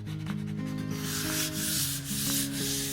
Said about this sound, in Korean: 모서리 부분도 꼼꼼하게 사포를 쳐주시는 게 좋을 것 같고요